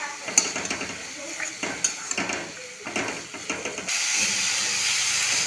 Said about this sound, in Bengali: মশলাটা খুব ভালো করে কষিয়ে নেব